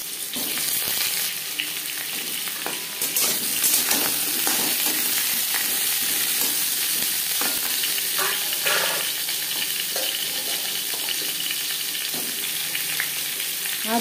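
Diced potatoes frying in refined oil in a pan, giving a steady, dense sizzle with scattered crackles and pops throughout, close and fairly loud with no talking.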